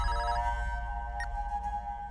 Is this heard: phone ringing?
yes